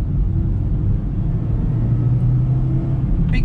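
Maruti Ritz petrol hatchback pulling hard for a quick overtake, a steady close engine drone and low road rumble holding level throughout with no talking.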